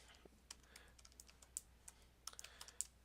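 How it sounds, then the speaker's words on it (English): Slow, uneven typing on a faulty computer keyboard, with single keystrokes clicking one at a time against a quiet background, some taps a little louder than others. "My keyboard is having some issues here. I'm gonna have to type really slow."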